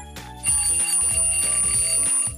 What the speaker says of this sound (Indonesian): nada yang bernama alarm clock dia sudah masuk dan terdeteksi oleh aplikasi WhatsApp, maka saya sentuh nada tersebut